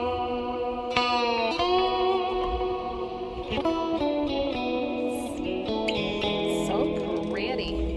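Electric guitar played through a Kemper profiler loaded with Diezel Herbert MKIII dual-cab profiles, with ambient delay and reverb. Sustained ringing notes and chords bloom and trail into washy echoes at a steady, full level.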